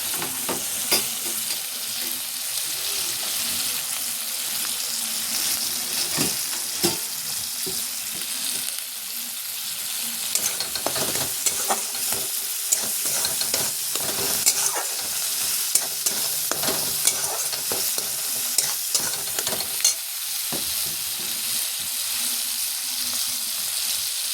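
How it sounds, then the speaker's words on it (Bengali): Masala of salt, turmeric and Kashmiri chili powder sizzles steadily in a pan for a rui methi dish while a spatula scrapes and taps in an irregular rhythm, close and continuous throughout. "মশলাটা ভাজা ভাজা করছি।"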